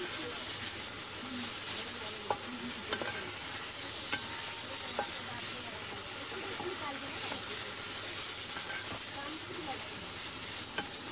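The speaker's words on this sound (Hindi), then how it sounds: "तो अब हम इसमें डाल देंगे हमारे फ्राई किए हुए केले, इसे हम मिक्स कर लेंगे अच्छे से" Fried raw banana pieces are stirred into sizzling masala in a pan, a steady close frying hiss with scattered spatula clicks and scrapes over about eleven seconds, no speech.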